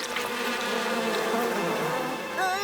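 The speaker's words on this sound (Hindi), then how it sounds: "वो मधुमक्खियों का छत्ता है।" Bees buzz in a dense, steady drone around a hive in a jungle setting, loud and continuous with a rising whine near the end, no talk.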